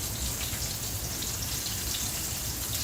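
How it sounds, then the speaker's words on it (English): Chicken-fried cube steak fries in a skillet holding an inch of oil, giving a steady, dense crackling sizzle close by with no pauses. "Dropping it in this skillet that has an inch of oil in it, and just gonna let it fry."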